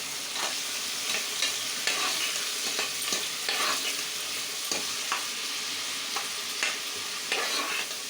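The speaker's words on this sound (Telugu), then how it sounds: "ఈ ఆయిల్ అండ్ గీలో ఫ్రై చేసుకున్నాము ఒక్కసారి కలుపుకుందాం" Onions fry in oil and ghee for chicken biryani while being stirred, a continuous close sizzle punctuated by repeated scraping knocks of a spoon against the pan every half second or so, with no voices.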